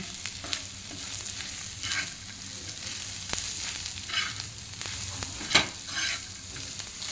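Onion thecha, a coarse village-style crushed onion mix with salt, is stirred and sautéed in a pan, giving a steady soft sizzle broken by scraping spoon strokes and a sharper clack near the end, close and alone.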